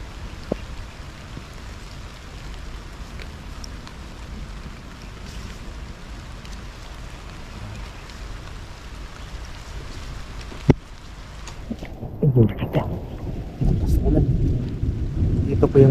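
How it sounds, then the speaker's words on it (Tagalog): Steady rain drones throughout, broken by a sharp crack near the end before a louder, heavier rumble takes over; no one speaks. "lakas naman ng ulan"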